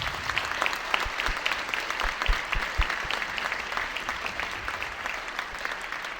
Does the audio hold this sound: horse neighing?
no